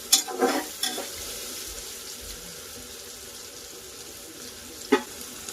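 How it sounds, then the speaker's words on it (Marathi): Pav bhaji masala cooking in oil with onion and tomato gives a soft, continuous frying hiss, with a few clinks of a utensil against the pan at the beginning and once near the end. "तो असा तेलात कांद्याबरोबर आणि टोमॅटो बरोबर फ्राय करून घ्यायचा"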